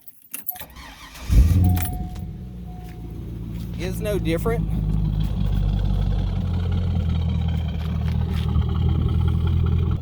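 A Chevrolet C5 Corvette V8 cranks over and fires up after a jangle of keys, then settles into a steady, loud, deep idle that runs to the end, with a person briefly speaking early on.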